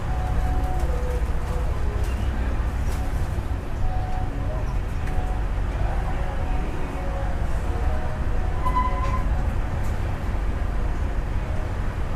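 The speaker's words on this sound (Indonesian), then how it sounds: "Ini kereta api Sribila Utama yang saya naiki barusan diberangkatkan dari stasiun Medan" The Sribilah Utama passenger train departing Medan station gives a steady low rumble with faint clanks and squeals, recorded from inside the carriage while a person talks over it.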